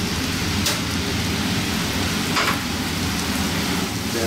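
Heavy rain pours down steadily in an early-morning thunderstorm, a dense continuous hiss with brief bright crackles or distant rumbles breaking through, no voices present.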